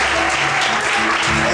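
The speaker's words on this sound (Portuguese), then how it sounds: "Vamos aplaudir." A church congregation applauds in a short, loud burst of clapping with some voices mixed in, lasting about a second and a half.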